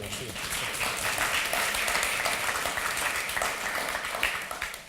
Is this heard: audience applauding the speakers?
yes